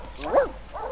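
A dog in The Sims 2 video game gives one short, sharp bark followed by a softer second yip, close and clear within a single second.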